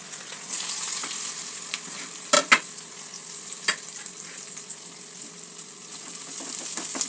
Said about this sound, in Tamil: பெரிய வெங்காயத்தை நேரம் நறுக்கிட்டு எண்ணெயில் பொரிக்கணும்.